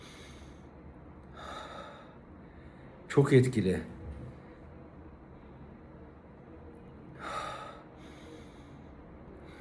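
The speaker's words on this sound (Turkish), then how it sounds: "Nefes alışımı kontrol ediyorum." Nasal breathing through an anti-snoring device: a few soft sniffing inhales, with one loud, sharp snort-like breath in the middle and a quieter one near the end. A voice speaks briefly between breaths.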